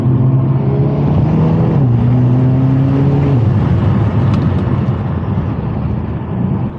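Hyundai Kona N with a turbocharged engine and DCT gearbox accelerates hard, a loud, close, continuous engine drone whose pitch climbs, drops at quick gear changes and climbs again before easing off.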